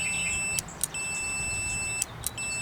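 High, steady electronic beeping from a continuity tester checking Jeep winch switch wiring, with a few sharp clicks breaking it, loud and close, then the tone resumes.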